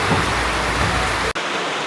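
Heavy rain pours steadily and loudly during the rainy season, a dense unbroken hiss that cuts off abruptly near the end and gives way to quieter rainfall.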